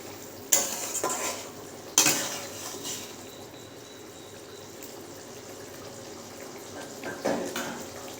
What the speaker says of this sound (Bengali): এবারে দিয়ে দেবো ভেজে রাখা মাছ। তো একটু নেড়ে চেড়ে দেব।